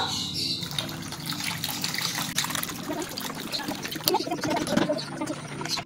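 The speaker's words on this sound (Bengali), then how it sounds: "এবার আমি ঠান্ডা জল দিয়ে দেবো" Cold water poured in while making a mango panna drink, a continuous splashing trickle close by that swells near the end.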